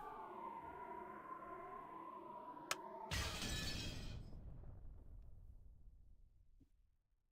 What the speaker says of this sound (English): an incredible sound like that of a glass window breaking reverberated through the hall.